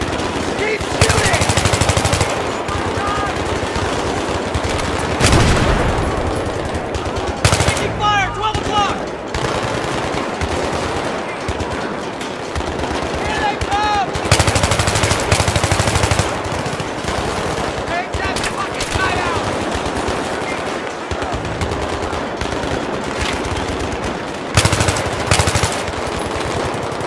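Dense gunfire from the video game Battlefield 3 on a combat mission, with near-continuous machine-gun bursts and sharp loud shots throughout, while soldiers shout over the din.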